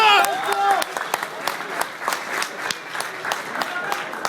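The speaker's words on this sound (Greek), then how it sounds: "χειροκρότημα" Scattered clapping from the audience at a Mr Hellas bodybuilding contest, individual claps standing out in an uneven rhythm, with a voice and a short musical tone at the start.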